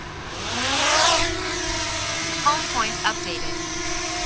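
A DJI Mini 2 SE drone spins up and lifts off, its high motor whine swelling loud within the first second and then settling into a steady buzz while someone talks nearby.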